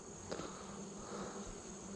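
Honeybee drones on a beehive frame make a dense, steady buzzing hum. The sound is low and continuous and stays fairly quiet and close throughout.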